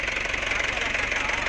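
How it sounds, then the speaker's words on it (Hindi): A Mahindra 475 tractor engine runs with a steady, loud, rhythmic knocking chug, close by and uninterrupted. "शर्मा जी का ट्रैक्टर है भाई"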